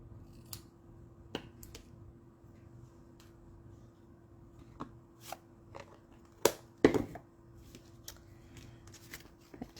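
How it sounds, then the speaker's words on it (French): Scissors cut paper for handmade card making, a few quiet, separate snips spread across a low background hum that grow louder and closer toward the end. "je vais prendre mes ciseaux"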